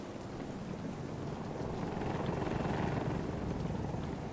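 A helicopter in Battlefield 2042 gives off a steady low rotor rumble and broadband wash that swells slightly in the middle, fairly distant, with no talk over it.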